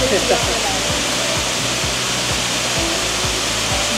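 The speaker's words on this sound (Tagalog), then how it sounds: "Closer view ng Tak-Tak Falls." Tak-Tak Falls in Siargao, a small waterfall after rain, roars as a steady, loud broadband wash, with faint voices partly underneath.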